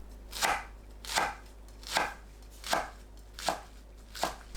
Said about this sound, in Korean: 깻잎은 줄기를 잘라내고 1cm 너비로 채 썰어주세요